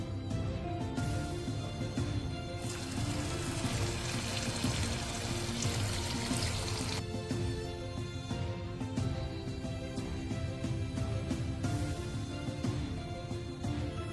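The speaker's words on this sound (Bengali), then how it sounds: "এর মধ্যে পরিমাণ মতো জল দিয়ে দেব।" Water is poured into paneer masala simmering in a pan, a steady continuous wash and trickle running for about fourteen seconds at moderate level, with no talking.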